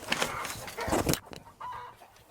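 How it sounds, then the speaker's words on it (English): Chickens cluck inside a backyard chicken coop in a series of close, uneven bursts, with a short quieter gap before softer clucking resumes. "That is our chicken coop."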